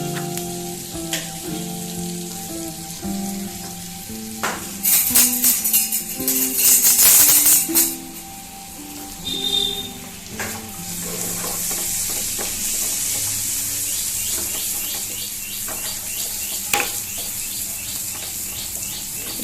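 Garlic and black pepper fry in melting butter in a pan, sizzling steadily and close, with stirring clatters and utensil knocks in the middle; a bird chirps faintly in the background.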